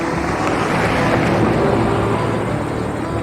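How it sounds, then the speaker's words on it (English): A John Deere tractor rumbles past at a steam engine show at Rollag, a steady low engine drone at moderate distance, continuous throughout with no talking. "John Deere tractor moving across in front of that"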